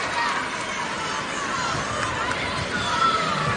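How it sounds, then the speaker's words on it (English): Crowd noise and cheering at a women's college basketball game, Minnesota versus UConn, a steady broadband roar of voices and shouts filling the arena without pause. "Teammates are cheering her on"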